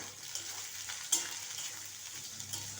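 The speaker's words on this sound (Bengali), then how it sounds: "সবজিটা একটু ভেজে নেব।" Vegetables fry in oil tempered with cumin seeds, bay leaf and green chillies, giving a close, continuous soft sizzle with occasional spatula scrapes and stirring knocks, no voices.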